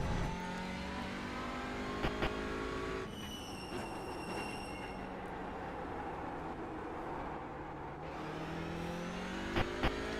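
Race car engine from the iRacing simulator at Snetterton, droning steadily through gear changes with harmonic whine and rumble, loud and continuous with no voices.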